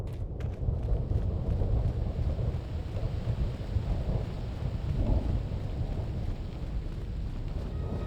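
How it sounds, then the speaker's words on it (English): A deep, continuous rumble of thunder on Malachor V in Knights of the Old Republic II rolls on steadily with a hissing, stormy wash, loud and unbroken throughout, with no rain. "Thunder and lightning, but no rain."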